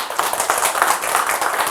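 Audience applause at a Korean lecture-style event, a steady wash of many hands clapping close and fairly loud, continuous without a break.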